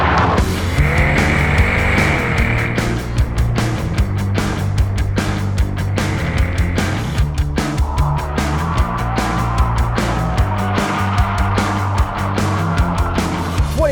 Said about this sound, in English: '24 Chevrolet Corvette E-Ray with launch control.